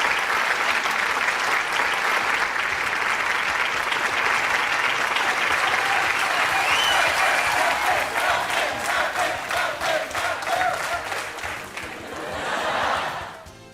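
A large studio audience applauds loudly and continuously, with some cheering mixed in, before the clapping fades near the end.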